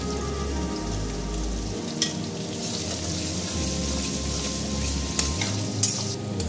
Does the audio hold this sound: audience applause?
no